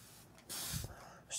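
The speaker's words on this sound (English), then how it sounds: "Spray a little more on the palette paper so when you're mixing the paints they don't dry out." Short hissing bursts from a handheld water mister spraying onto palette paper, two close puffs, with the second longer and louder, and a faint background hum.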